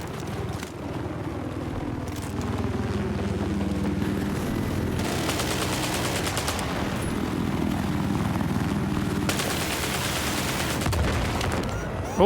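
A helicopter in the Battlefield 4 video game, its rotor droning loud and continuous throughout, with bursts of gunfire layered over it.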